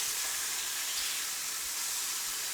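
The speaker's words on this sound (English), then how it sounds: "I am going to deglaze this pan" A pan sizzles steadily after chicken has cooked in it with a touch of oil as it is deglazed, giving a continuous loud hiss and crackle with no pauses and no talk.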